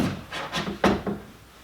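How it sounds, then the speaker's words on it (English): Wooden door being fitted into its rough frame at an off-grid homestead, heard as several close scraping and rubbing knocks of wood against wood, with one sharper bump partway through, and no talking. "So let me get this door put in here."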